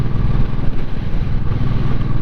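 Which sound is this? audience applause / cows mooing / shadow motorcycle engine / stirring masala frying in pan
shadow motorcycle engine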